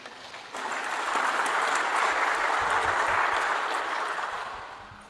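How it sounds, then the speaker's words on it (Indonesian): A crowd at an Indonesian political rally breaks into sustained applause, rising sharply after a brief pause, holding steady and loud for several seconds, then tapering off near the end. "Tepuk tangan untuk kita semua."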